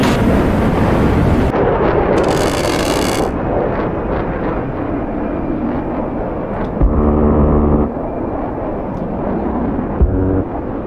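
Missiles launching during an F-14B Tomcat versus F-15 Eagle dogfight in the DCS World flight simulator: loud, continuous roaring rumble with heavy bursts and blasts, no voices.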